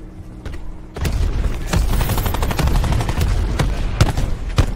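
Video game battle where a cluster grenade sets off a rapid string of sharp explosive cracks mixed with sustained automatic gunfire, loud and dense after a brief quieter lead-in, with a few heavier booms near the end.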